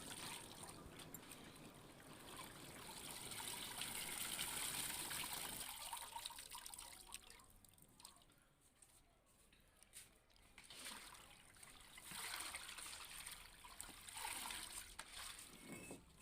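Faint water trickling and dribbling steadily from washed carrots in a strainer, with soft splashes as it drains away, quieter in the middle before picking up again.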